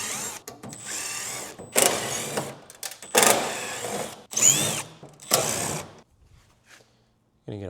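A power drill whirs in several short bursts, backing screws out of an LG washer panel during a drain pump replacement, loud and close, with a voice speaking between the bursts before a stretch of quiet.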